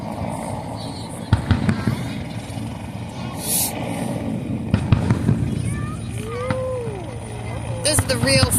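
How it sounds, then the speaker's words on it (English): Independence Day fireworks over Washington DC, with scattered sharp bangs and crackles amid steady crowd noise and a whistling rise, some booms near and others distant, while people talk throughout. "This is the real firework-looking fireworks."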